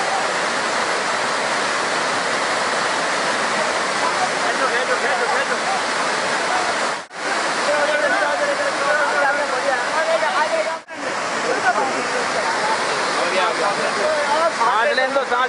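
Rising flood water rushes in a steady, loud, broadband roar that fills the whole span, with two brief dips, while voices call out faintly underneath.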